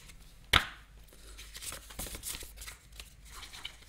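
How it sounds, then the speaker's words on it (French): A deck of cards being shuffled by hand: one sharp riffle snap near the start, followed by softer ruffling and flicking for a few seconds, quiet and close with no talking. "Je vais, comme vous le voyez, brasser les cartes"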